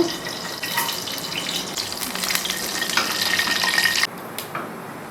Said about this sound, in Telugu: తాలింపు గింజలు